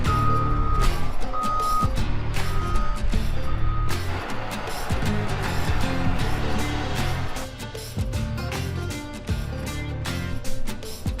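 A wheel loader's reversing alarm beeps repeatedly in a steady pattern over loud machine rumble and clatter, close and continuous throughout.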